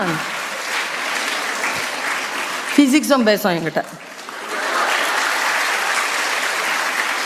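Audience in a Tamil motivational speech hall clapping hands: broad, steady applause fills most of the stretch, dipping briefly while a voice speaks over it before the clapping swells again.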